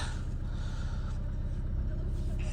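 A Seat Leon with a tyre-pressure warning after a frost sits idling just after starting, a steady low engine rumble running throughout, with muffled voices nearby.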